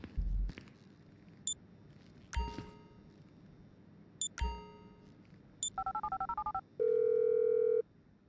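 Phone dialing in GTA V: a few sharp clicks and chimes, then a quick run of dial tones followed by a steady one-second tone, quiet and heard on its own.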